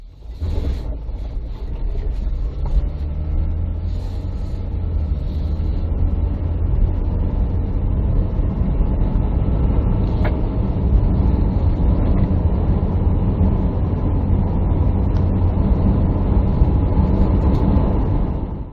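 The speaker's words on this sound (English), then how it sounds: "And now let's do nighttime driving." A car driving at night, recorded from inside through a 4K dual dash camera: a steady, loud low engine and road rumble with tire hiss, continuous throughout and no talking.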